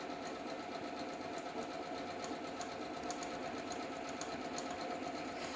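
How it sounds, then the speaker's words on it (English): A sewing machine runs steadily through a quarter inch seam, its even rapid mechanical chatter continuous and close with no pauses. "I'm sewing a 1/4 inch seam."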